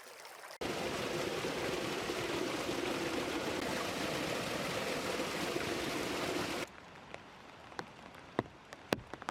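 Steady rushing water from the Trambouze river fills most of the stretch, then cuts off abruptly, leaving quiet with scattered small drips and taps.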